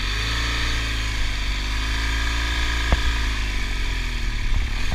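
A 2016 BMW R1200GS Adventure motorcycle idles in gear with a steady low boxer-engine rumble while being walked through deep sand, constant and close with one brief knock partway through.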